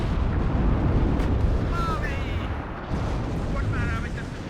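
Artillery shots in the WARNO real-time strategy game, a dense rumbling barrage of booms with a few short whistles on top, heavy and continuous, under some talk.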